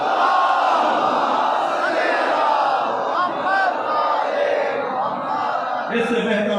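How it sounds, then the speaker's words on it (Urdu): A large congregation at a Jashan e Sadqain gathering in an imam bargah loudly chants salawat in unison, a sustained roaring wave of massed voices filling the hall. "آج کی اس محفل میں گناہوں کی معافی کے لیے بلند تر صلوات ہو۔"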